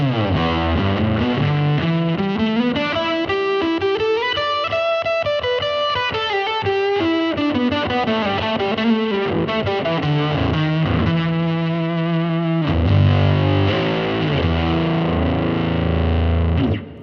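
Distorted electric guitar plays a winding melodic line drenched in swirling, warbling modulation effects, loud and continuous over a backing track.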